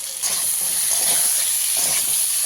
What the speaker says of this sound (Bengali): রুই মাছ ভেজে রেখেছি আর বেগুন তেলে কষাচ্ছি